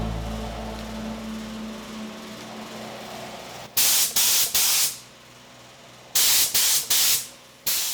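Paint sprays a second coat onto a Triumph TR4's front suspension parts in bursts: a low background hum, then three short loud hissing blasts, a pause, and three more with a final brief spurt.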